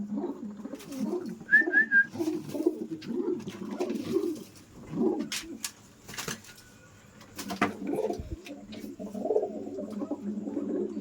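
Pigeons, some of them recovering from illness, cooing in low, repeated throaty murmurs close by, with occasional faint clicks and a brief whistle in the background.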